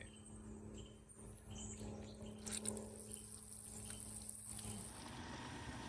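Quiet, steady hiss of water flowing from a RainPoint smart water timer to an irrigation zone, with faint mechanical hum underneath, continuous and fairly soft throughout, no voices.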